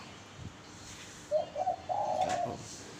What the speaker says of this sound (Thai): เลี้ยงนกไปนะ ฟังเสียงนกไปพร้อมครับ